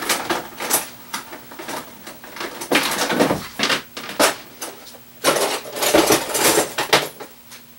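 Metal kitchen utensils clatter and rattle as a spatula is pulled from the pile during soap making, several loud bursts of jangling separated by short pauses, close by.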